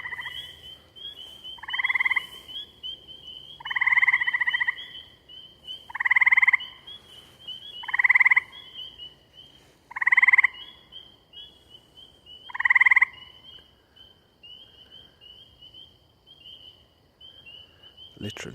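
Tree frogs in Maine in late May give a series of about seven loud, evenly spaced trills, each around a second long, over a constant high chorus of spring peepers calling in the background at night.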